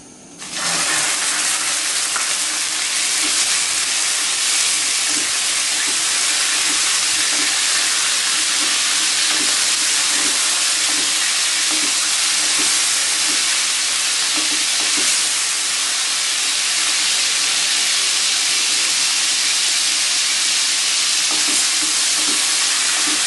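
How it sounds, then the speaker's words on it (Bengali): Chicken fries in hot oil with a loud, steady, continuous sizzle that holds unbroken from start to finish, close and dense, with faint clinks of stirring beneath. "এবার আমি চিকেনটা ফ্রাই করে নিব।"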